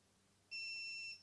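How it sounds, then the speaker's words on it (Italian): A single steady high-pitched electronic beep from KEBTEK KTE-35 electric pruning shears, clear and close, holding for under a second against a quiet background. "Dobbiamo tenere premuto il grilletto fino a quando emette un solo beep"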